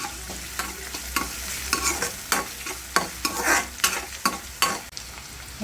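Onion and garlic fry in a pan for a Maharashtrian mixed vegetable curry, a steady close sizzle broken by repeated rhythmic scrapes of a spoon stirring, with no talk.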